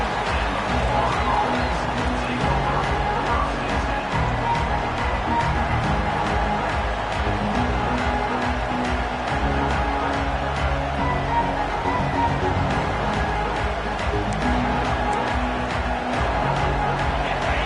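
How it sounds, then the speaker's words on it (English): Home crowd at a college football stadium, a steady dense roar of cheering and noise filling the whole stretch, loud and continuous with no clear breaks. "this home crowd is fired up and ready to make a difference today"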